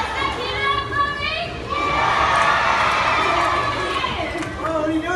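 A large crowd with many children cheers, shouts and whoops at a stunt car show, a loud sustained roar that swells midway and carries scattered high-pitched kids' screams throughout.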